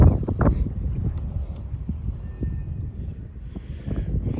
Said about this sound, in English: Sorry, it's super windy.